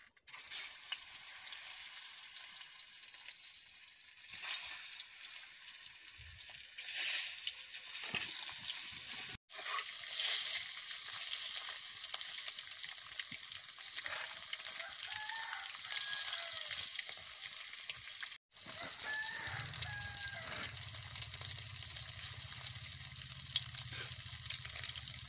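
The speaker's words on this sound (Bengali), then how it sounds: "আমি সিদ্ধ ডিমগুলো ভেজে নেব।" Hard-boiled eggs frying in hot oil with turmeric powder, a steady crackling sizzle that continues throughout, with brief dips and some stirring noises, no talking.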